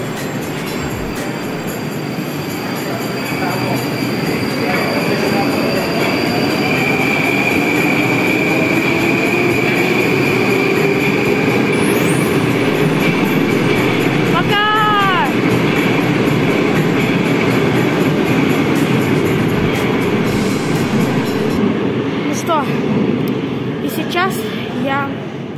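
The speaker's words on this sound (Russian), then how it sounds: "Поезд у нас отправляется в тупик." A Moscow metro train rumbles steadily as it pulls away, wheels humming with brief metallic squeals and clicks from the rails, heard from inside the car.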